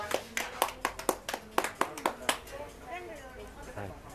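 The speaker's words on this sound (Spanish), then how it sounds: "Aplauso para todos ustedes" Several hand claps in a short, uneven burst at a live broadcast event, loud and close, fading out as a voice continues talking.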